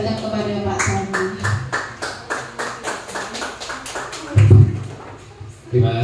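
Applause for a discussion moderator at a meeting: a run of roughly a dozen quick, evenly spaced claps from a small group, close and clear, with a voice speaking over the start and again near the end.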